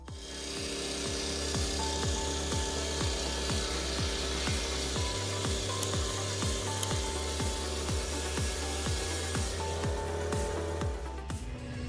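A 1980s chainsaw cuts through wood during tree felling, its engine holding a loud, steady drone with a regular pulsing rhythm from start to finish and no voices.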